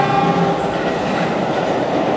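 A tourist train runs on a hilly railway line in Indonesia, rolling past in a loud, steady rumble of wheels and cars with faint clickety-clack, nearby and continuous, with no voices.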